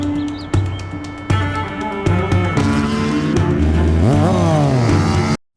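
A dirt bike at full speed, a loud, close engine roar that steps up through several revving surges and pitch climbs before cutting off abruptly at the end.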